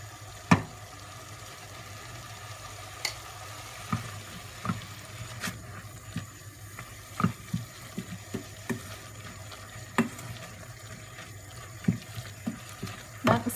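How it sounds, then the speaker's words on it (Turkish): Spinach sautés in a pan for a bulgur spinach dish, a low steady hiss under scattered sharp knocks and taps of a utensil against the pan, close by and without talk. "Gördüğünüz gibi kavrulan ıspanaklarım küçülmeye başladı."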